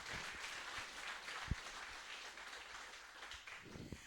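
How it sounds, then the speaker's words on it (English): An audience applauds an author at the Words at Wagstaffe writers' event, a faint, steady wash of clapping held at an even level for about four seconds, with one sharper clap standing out near the middle. "Please give Jack Beaumont a massive round of applause."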